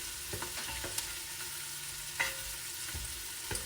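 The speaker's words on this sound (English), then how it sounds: "So I'm gonna let that saute up." Onions and garlic sauté with browned hamburger in a pan, a steady quiet sizzle and fry broken by a few soft clinks of a utensil stirring, with no talking.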